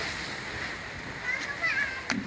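Rough sea water churns and splashes against the seawall at Baseco, Manila, in a constant wash of noise, with a few sharper splashes toward the end; a voice is faintly present.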